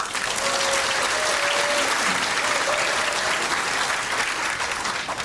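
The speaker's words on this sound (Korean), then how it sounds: "일곱 명 우리 현역 의원님들께 박수 한 번 보내주세요" A large crowd at a political party rally applauds continuously and evenly, dense clapping filling the whole stretch without pause.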